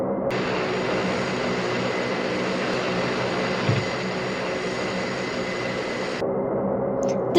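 Aircraft engine in a flight game, with the plane on fire and going down: a loud, constant droning roar that holds steady throughout, with no speech.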